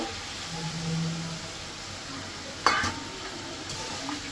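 Spices and oil are stirred down for a boal fish head curry, giving a soft, low sizzle. Scattered clinks of a spatula against the pan come through, with one sharper scrape near the middle, and no voices.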